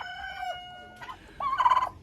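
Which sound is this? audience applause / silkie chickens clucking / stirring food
silkie chickens clucking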